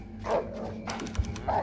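A dog barks a few times at a middle distance in the horror video game The Cows Are Watching, short yips spaced over a low ambient background.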